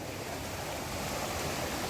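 Floodwater of the Ganga rushing at Haridwar, a dense, unbroken roar of muddy river current, steady and loud with no voices.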